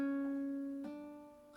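A guitar ascending slur, a hammer-on: a sustained plucked note shifts up to a second pitch with a soft tap, ringing quietly and close with no voices, then fading.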